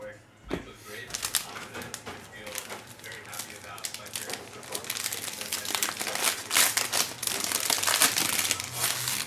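A Panini Prizm basketball cello pack is ripped open, its plastic wrapper crinkling and crackling continuously at close range, growing busier and louder toward the end, with a voice faintly underneath.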